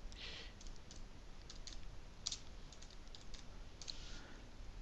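Typing on a computer keyboard while entering product data into a Windows 7 program, a steady run of light key clicks with a few sharper isolated presses, faint over a constant background hiss.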